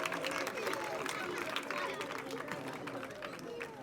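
A village crowd claps loudly for two sisters being honoured with a cash gift at a welcome celebration for gold-medal-winning athletes, a continuous rattle of many hands mixed with crowd chatter and voices throughout.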